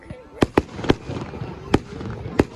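Five sharp burst firework bangs pop in an irregular sequence at a Bonfire Night display in Newtonhill, Scotland, crisp and close, over a low background murmur.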